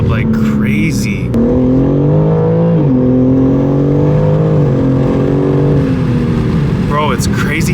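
A modified BMW G80 M3 accelerating hard heard from inside the cabin, a loud droning engine note climbing through gears with brief shift dips, and voices talking over it at the start and end.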